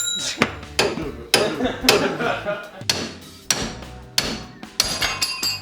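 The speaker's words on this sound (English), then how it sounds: "Minor incident with a hammer." Heavy hammer blows strike a metal car part, popping off ball joints, at an uneven pace, each sharp clang ringing briefly before the next hit, loud and close.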